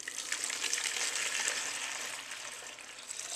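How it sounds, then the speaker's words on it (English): Hot sugar syrup made from 500 millilitres of water and 400 grams of sugar is poured off the heat into a jug, making a soft, steady hiss that runs for a few seconds. "we're going to take this off the heat and we're going to just pour it in a jug"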